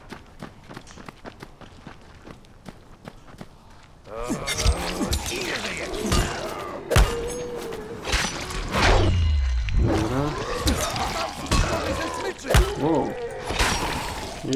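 Repeated pipe blows in the zombie game Dying Light, a series of sharp thwacks and thuds amid running footsteps and game noise, loud and close, with talk over parts of it.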